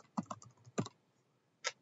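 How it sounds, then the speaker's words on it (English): Light taps on a computer keyboard as a school name is typed, a few quick clusters of keystrokes then a short pause and one last press, close and quiet. "make sure that you type out the full name"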